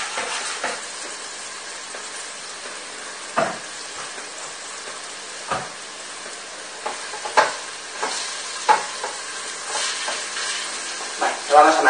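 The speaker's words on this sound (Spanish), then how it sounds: "lo vamos a marcar de un lado y del otro" Veal ossobuco searing in a pot, a steady close sizzle of frying meat with occasional clinks and stirring knocks throughout.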